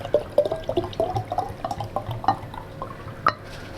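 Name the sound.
shaking a bottle of water with dissolved drink powder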